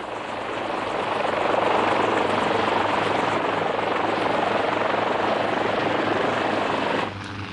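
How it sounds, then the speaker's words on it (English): A helicopter flies over the island of Dia with a camera bolted to its undercarriage, its rotor and engine roaring loud and steady throughout before dropping off abruptly near the end. "an electric camera is bolted to the undercarriage of the helicopter to shoot a connected sequence of vertical views"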